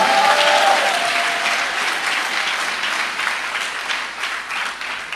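A church congregation breaks into steady applause with scattered cheers, loud and dense at first and easing slightly over the few seconds, with no voices standing out above the clapping.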